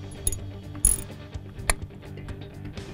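Ratcheting wrench clicks while bolts are drawn down evenly on the bonnet of a Fisher EZR natural gas pressure regulator, a few short metallic bursts and ticks, close and otherwise quiet.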